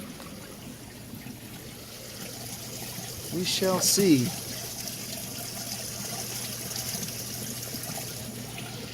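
Water flows steadily through a radial flow filter on a fish pond, making a continuous soft trickle and gurgle with a brief swell. A voice speaks briefly over it.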